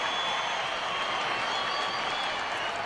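A crowd at a Dodgers baseball game against the Angels roars and applauds in a steady, dense wash of cheering that holds at full volume, distant and without any break.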